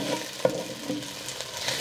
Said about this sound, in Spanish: Ya se tronó la cebolla, ya le voy a poner estas rueditas de chile perón.